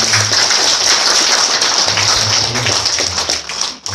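Wedding guests clap steadily, a dense continuous patter of many hands at close range, with a faint voice underneath and a brief dip near the end.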